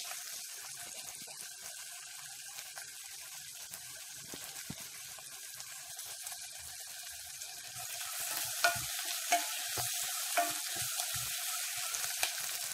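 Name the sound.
stirring onions frying in a pan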